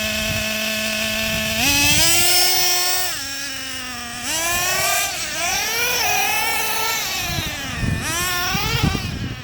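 A 2008 Traxxas Revo 3.3 Platinum Edition nitro RC truck engine screams loud and close, its high buzzing pitch climbing and dipping through repeated throttle blips and revs with no talking.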